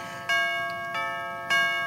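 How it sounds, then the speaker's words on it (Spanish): A doorbell rings in a TV comedy-drama scene, giving three distinct ringing chimes in quick succession with a short pause between each. Each one decays slowly over a faint background. "Esa forma de tocar el timbre me hace acordar."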